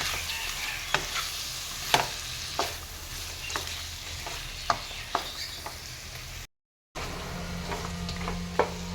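A spatula stirs and scrapes turmeric, coriander and cumin powders with oil and salt in a sizzling pan for a chicken curry, giving steady repeated scraping strokes over a constant frying hiss, with a brief break midway.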